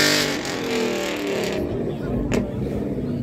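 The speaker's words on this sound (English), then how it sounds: "I do apologise for having a rev off competition there" Classic car engines revving in a rev-off at an outdoor motor show, loud bursts of throttle rising and falling at close range while someone talks over the noise.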